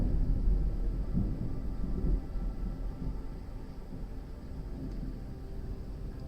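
Thunder from a severe thunderstorm, a steady low rolling rumble that is loud at first and gradually eases, with no voices.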